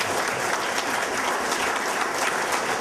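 A roomful of people applauds three panel speakers at a book launch and panel discussion, giving a continuous, even round of clapping with no voices over it.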